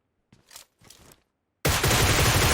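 Gunfire in the PUBG Mobile video game, a couple of faint scraping shots followed by a sudden loud, sustained burst of automatic fire close by.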